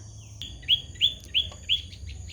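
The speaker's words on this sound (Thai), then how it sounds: "จะเป็นนกตัวเล็ก ๆ ได้ยินเสียงไหมคะเพื่อน" A small bird gives four short, high chirps at an even pace, fairly close, over a faint low background hum.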